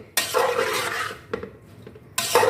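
Pot of cabbage sabzi being covered with a lid over a medium flame, giving a sharp metallic clank at the start, a softer knock midway and another clatter near the end, with no talking.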